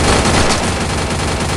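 Continuous, loud UMP submachine gun fire in a shooting video game, a dense unbroken burst of rapid shots filling the whole moment with no speech.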